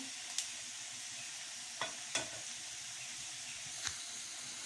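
Oil hits a pan of onions and vegetables, producing a quiet, even sizzling hiss. Faint taps of a spatula or stirring are scattered through it.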